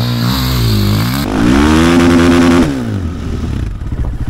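A motorcycle engine revs hard with a strong throttle blip, its pitch climbing sharply before dropping back, loud and close, then settling into a rough idle.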